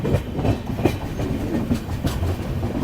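The Dhule Express train rolls steadily along the rails with a rhythmic clickety-clack of wheels over joints, close by and continuous, with no voices.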